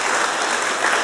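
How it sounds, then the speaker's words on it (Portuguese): An assembly audience claps in a brief, dense burst of applause honoring newly installed elected leaders at a convention in Belém. "Uma salva de palmas para esses homens valorosos do Senhor Jesus."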